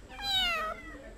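A kitten in the Amazon jungle gives one clear, rising-and-falling meow, close and fairly loud against a quiet background.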